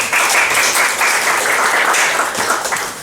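A comedy club audience at an improv show claps and cheers to vote, a loud, continuous wash of applause filling the room throughout.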